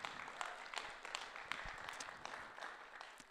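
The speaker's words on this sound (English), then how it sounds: "Should we just have a round of applause first of all?" A church congregation applauding during a Sunday service, a steady wash of many hands clapping at moderate distance, dense and even throughout with a few sharper claps standing out.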